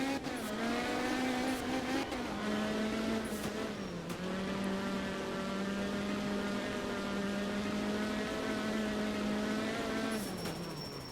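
A rally car in art of rally holds a steady, buzzing engine drone with clear harmonic whine, the pitch dipping and climbing through gear changes and throttle shifts, close and continuous with faint tyre noise and no talk.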